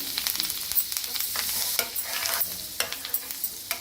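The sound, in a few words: roasting pav bhaji vegetables with butter on a tawa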